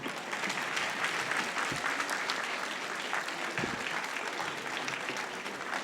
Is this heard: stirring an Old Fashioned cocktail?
no